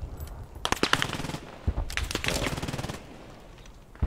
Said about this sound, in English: I'm being watched over by an MG42.